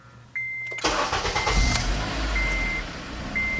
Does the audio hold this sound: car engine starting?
yes